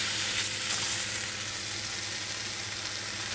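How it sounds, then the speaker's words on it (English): Turkey bacon frying in a pan, giving a dense, steady sizzle and crackle, close and continuous throughout, with a few brief spatters near the start and no talking. "I'm just gonna partially cook this bacon."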